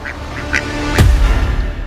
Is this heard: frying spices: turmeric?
no